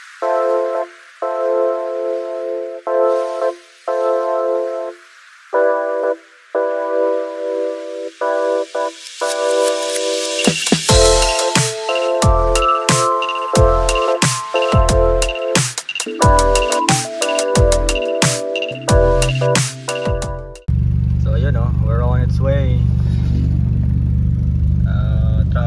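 A Nissan Sentra B14 with flooded cylinders, worn fuel injectors and a worn fuel regulator, idling as it warms up. Tonal beeps and clicks come first, then a steady low engine drone takes over for the last few seconds.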